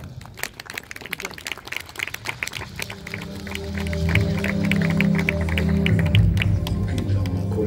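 An audience at a western show claps for a performer, with scattered claps at first that swell into denser, sustained applause mixed with a low crowd rumble.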